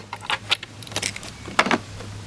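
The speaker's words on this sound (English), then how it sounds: "To tighten down the swing arm sliders, you're gonna need huge Allen wrenches like this set has." A set of large metal Allen wrenches is handled close up, giving several short clinking, jangling bursts spread across a couple of seconds over a low steady hum.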